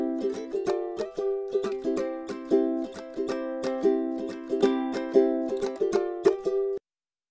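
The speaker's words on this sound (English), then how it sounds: "I recorded this using a SE1A small diaphragm condenser microphone, pencil condenser, and raw sounds like this." Unprocessed ukulele picked near a small-diaphragm pencil condenser microphone, a steady run of bright plucked notes in even rhythm, close and clear, stopping abruptly.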